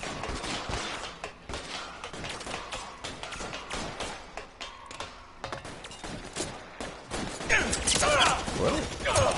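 Video game gunfire rattles in rapid, uneven bursts and mechanical clicks, dense and close, with a player talking over it.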